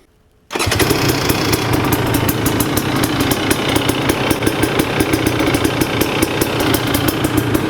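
A home-built, fuel-injected, electric-start two-stroke engine in a Yamaha YFZ fires up after a brief silence and runs loud and close with a rapid, raspy, buzzing pulse that holds steady to the end.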